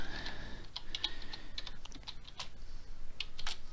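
Typing on a computer keyboard, with quick irregular keystroke clicks close by and no talking over them.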